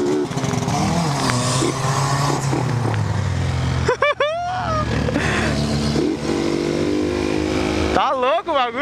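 A Yamaha XJ6 motorcycle engine roars and revs hard close by, pitch climbing and dropping sharply, with a voice speaking over the noise.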